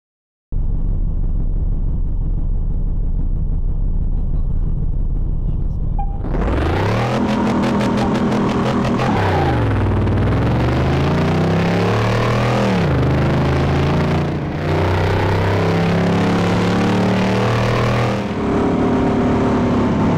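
A Dodge Challenger engine in Car Mechanic Simulator 2018 starts with a sharp crank after quiet game ambience, then settles into a loud, steady rumble that is revved repeatedly, the pitch rising and falling through several swells, close and alone.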